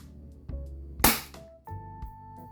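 A single sharp, loud air gun crack during a chronograph velocity test, snapping and fading quickly, set against a steady low hum and faint background tones.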